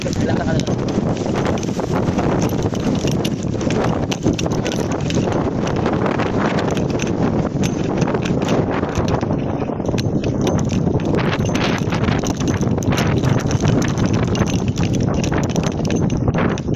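Constant heavy wind on Mount Brigino buffets the microphone in a dense, roaring rush. Voices talk faintly beneath the gusts.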